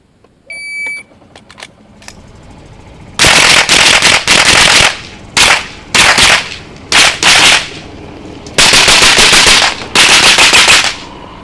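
Rapid rifle shots fired on a stage of the Hawke British Mini Rifle Championship, several quick bursts of sharp cracks separated by short pauses, loud and close, after a few electronic start beeps.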